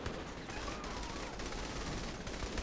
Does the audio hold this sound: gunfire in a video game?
yes